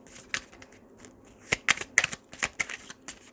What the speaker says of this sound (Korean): 자, 조언 카드 한번 뽑아볼게요.